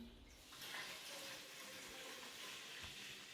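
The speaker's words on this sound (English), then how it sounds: "You just fill the water in the pot" Filtered water runs from a tap into a pot as the vessel is filled for a neti rinse, a steady continuous gushing that swells and holds level through to the end.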